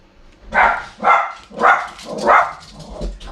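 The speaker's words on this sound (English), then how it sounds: "excuse the dog" A dog barks four times at a postman at the door, in a loose rhythm, loud and close, with short pauses between barks.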